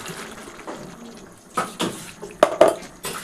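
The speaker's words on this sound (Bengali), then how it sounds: "এবার পোস্তর যে জলটা আছে সেই জলটুকু দিয়ে দিচ্ছি" Poppy seed paste water poured into a simmering curry of potatoes and pui greens, with a watery pour and a few sharp metallic clinks of pot and utensil near the end, no speech.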